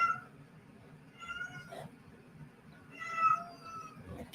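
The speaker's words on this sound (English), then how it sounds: "The kitty is howling for no reason." A house cat howls and meows in drawn-out, mournful wails, two separate calls a couple of seconds apart, fairly faint over a low background rumble indoors.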